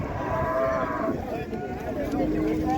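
A cow at a busy livestock market gives a drawn-out moo against a dense background of crowd noise and chatter.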